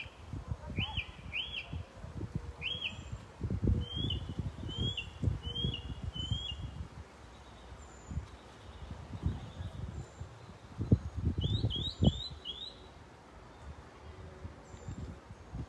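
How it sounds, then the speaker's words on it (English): Several birds chirp and tweet in short bursts at mid distance, over an outdoor background with low rustling and occasional thumps. "The birds are out."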